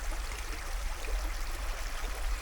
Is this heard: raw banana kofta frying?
no